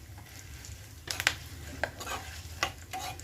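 Hot oil tempering in a pan with asafoetida and red chili powder for a tomato saar, a quiet sizzle under a few sharp clinks and scrapes of a spoon stirring against the pan.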